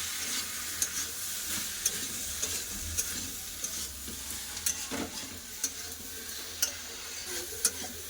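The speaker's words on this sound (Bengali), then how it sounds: "এবার খুব ভালো করে কষে চাপা দিয়ে দেবো" Spiced red lentils with tomato and mixed vegetables are stirred and sautéed in a pan, with a soft steady sizzle and a spatula scraping and tapping at regular intervals, close and quiet.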